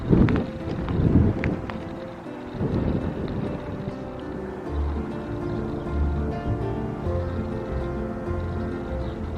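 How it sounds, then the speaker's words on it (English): Outdoor wind gusting hard against the microphone in rural Lancashire, loud rumbling bursts at first that settle into a steady lower buffeting. "it'll be even better once we get out of this wind"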